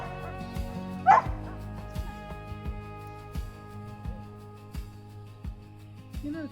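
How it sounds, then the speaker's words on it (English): A dog gives a string of short barks and yips at uneven intervals, one louder whimpering yelp early on, heard nearby against a faint humming background. "you really could not have gotten a prettier dog. Or a handsomer dog."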